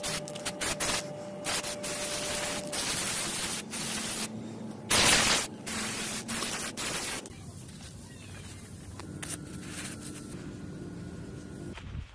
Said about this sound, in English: I painted all the triangles with colored spray and finally with a matte clear coat spray